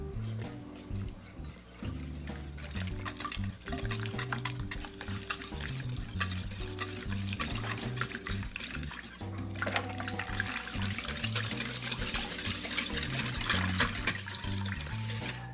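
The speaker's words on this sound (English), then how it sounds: "And we're going to add our water and then whisk this all together." Water poured into a bowl with salt and sugar, then whisked in a continuous sloshing, trickling stir, with clattering and scraping and a louder burst of whisking toward the end.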